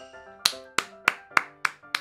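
A few sharp hand claps, about six, spaced evenly at a steady rhythm, close and fairly loud against a soft tonal background.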